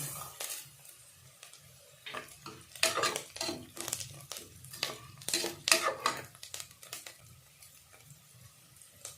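Mango rice ingredients and chana dal being sautéed in a pan, with a string of scraping stir strokes and light clinks over a soft sizzle at moderate level, no talk.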